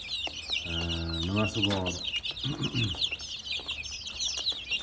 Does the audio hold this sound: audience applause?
no